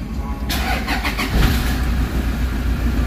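A Toyota Fortuner with an engine wiring fault, one that loses power around 2000 rpm and stalls, cranks and starts after about half a second, then settles into a steady, close idle rumble.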